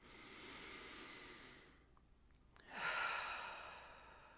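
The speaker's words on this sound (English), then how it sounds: "take a nice deep breath with me" A slow, deep breath taken during a guided meditation: a long soft inhale, a brief pause, then a fuller audible exhale, close and quiet, with no talking.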